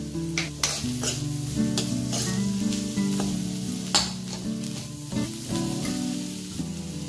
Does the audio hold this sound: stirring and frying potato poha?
yes